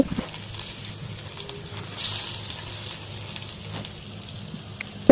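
Marinated jackfruit pieces fry in a pan with a soft, even sizzle and crackle, a brief louder burst of spitting oil partway through, and no talk.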